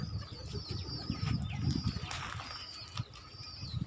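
A pigeon chick feeding makes soft, rapid, faint cooing and peeping sounds with fluttering wing flaps, close by and without talk.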